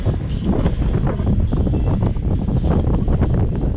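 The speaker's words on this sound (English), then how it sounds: "And suddenly the wind's got up." Strong wind buffets a sailboat at sea under grey skies, a loud continuous roar of gusts across the microphone with faint water wash beneath, no talking.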